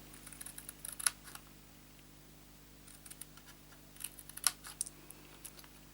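Scissors cutting paper card along a score line for a small gift box, quiet close snips in two short bursts separated by a pause, over a faint hum.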